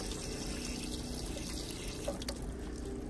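Water gushes steadily from the drain of an RV water heater during winterizing, a continuous rushing, splashing flow heard close up without talk.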